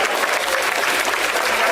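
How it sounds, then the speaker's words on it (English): Dense, steady applause from a large audience fills an official commissioning ceremony, a continuous wash of many hands clapping at once. "Please, a round of applause."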